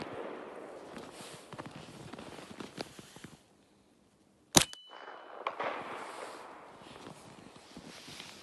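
Shots from a compact SMG fitted with a steel suppressor: muffled reports amid scattered handling noise, with one sharp loud crack standing out after a brief silence, followed by echoing rattles.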